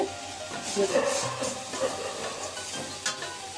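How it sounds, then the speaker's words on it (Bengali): Ginger paste and spices stirred and frying in a pan with onion paste and oil, a steady moderate sizzle with scraping stir strokes, with a voice faintly present underneath. "1 চা চামচ আদা বাটা, দিয়ে মশলার সাথে ভালো করে নেড়ে চেড়ে"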